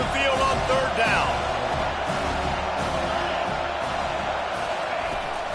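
A home crowd at a college football game roaring on third down, a broad sustained cheer with whoops, steady and loud, under a commentator's voice.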